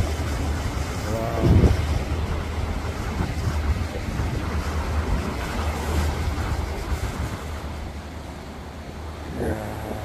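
Wind and waves wash over a steady low rumble of a yacht on open water off the Busan coast, with a couple of brief knocks and no clear talk.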